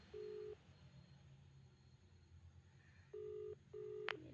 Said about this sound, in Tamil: இவனுக்கே நம்ம ஒரே ஃபோன் பண்ணுவோம்